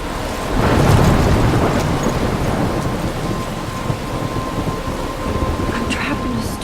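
A thunderstorm in the game Life is Strange, steady heavy rain with a loud rolling rumble of thunder swelling early and then fading under the downpour.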